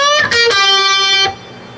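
Electric guitar riff from a song: a couple of quick picked notes, then one loud sustained note with slight grit that rings about a second and cuts off.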